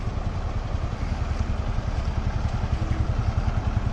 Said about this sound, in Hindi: ये बाइक वाले स्ट्रगल करते हुए